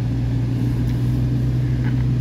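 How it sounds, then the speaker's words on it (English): A car moving along a road in Sarasota, heard as a steady low engine rumble that holds constant throughout, with no clear rise or fade of a pass-by. "there's a car coming that way"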